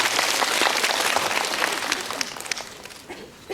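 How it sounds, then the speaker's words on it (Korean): Applause from a live-talk audience at a Korean film event, a loud burst of many hands clapping that gradually thins and fades, leaving scattered claps at the end. "박수 한번 부탁드리겠습니다"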